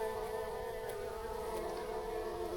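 A steady insect buzz drones close by, several overlapping hums with a few faint ticks, no voices: bees or hornets swarming around trekking poles on the Appalachian Trail.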